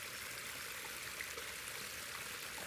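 A pondless waterfall in Port Washington, Long Island, with one big drop and a couple of smaller drops, giving a steady, soft, even rush of falling water.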